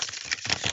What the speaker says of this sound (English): we're shuffling them up again.